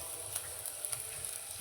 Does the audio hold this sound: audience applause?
no